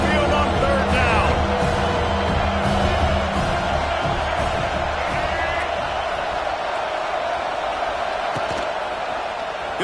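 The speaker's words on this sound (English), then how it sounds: "The Tide crowd rolling noise down onto Saban Field on third down" Alabama Crimson Tide football crowd at Saban Field roaring on third down: a loud, continuous wash of stadium noise that holds steady throughout, with a commentator talking over it.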